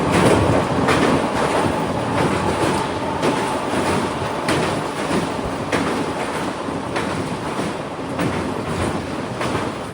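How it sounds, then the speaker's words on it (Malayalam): Himsagar Express sleeper-class coach running at about 130 km/h, a loud, steady rolling rumble with regular clickety-clack beats from the wheels passing over rail joints, heard close from inside the coach. "ട്രെയിൻ ഇപ്പം 130 km/h സ്പീഡിലാണ് പോയിക്കൊണ്ടിരിക്കുന്നത്."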